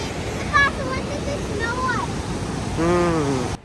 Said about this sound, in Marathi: नदी एकदम जोरजोरात धावत आहे.